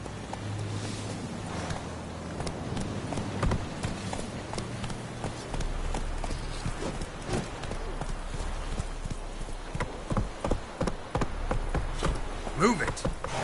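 Horse hooves clip-clopping at a steady running gait in The Witcher 3 video game, repeated hoofbeats over a low ambient game background with brief talk.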